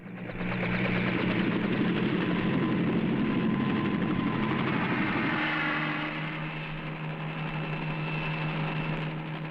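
A helicopter drones steadily with a deep, throbbing engine and whirring rotor, loud and close throughout, easing slightly in the second half.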